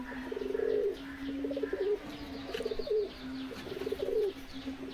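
A female Madras pigeon coos close by in repeated soft throaty bursts, several rounded phrases with short pauses between them.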